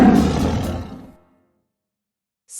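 A tiger lets out one loud, close roar that rumbles for about a second and then drops into silence.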